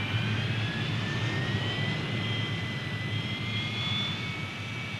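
A Mark II Harrier jump jet's engine emits a steady, distant whine over a low rumble, its high tones gliding slowly in pitch throughout.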